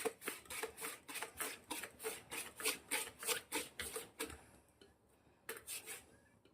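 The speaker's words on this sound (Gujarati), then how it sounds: "હવે આપણે ડુંગળી લેવાની ડુંગળી પણ આવી રીતે સાઈઝ કરવાની છે" Knife slicing an onion on a cutting board while making cucumber raita. Quick, evenly spaced chopping strokes, about a dozen in a row, come close and crisp, then pause briefly before a few more cuts.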